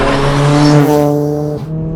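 A Mk1 Ford Focus RS with a turbocharged engine accelerates hard, its loud, close engine note rising steadily before easing off near the end.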